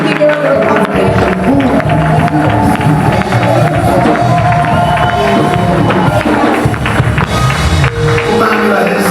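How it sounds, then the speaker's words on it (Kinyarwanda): A church congregation gathered on the church grounds applauds and cheers loudly. Many voices shout and call out in a dense, sustained roar that stays strong throughout. "tugukomeye amashyi"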